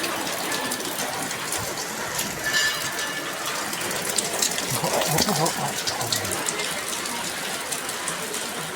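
Steady heavy rain hisses and pours without letup, a dense wash of sound that fills the whole scene.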